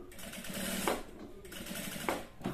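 Sewing machine stitching piping on a salwar, a soft, fairly quiet whirring run of stitches with brief pauses, carried along for about a foot of seam.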